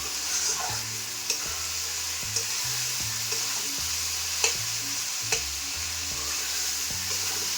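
A pot of fish curry with potatoes bubbles and simmers with a soft, steady hiss, while faint clinks and low knocks repeat throughout at close range.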